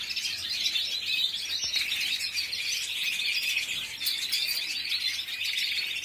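A busy flock of wild songbirds chatters and tweets continuously around a feeder holding watermelon, the chorus bright and close with a few sharper chirps standing out and no one speaking.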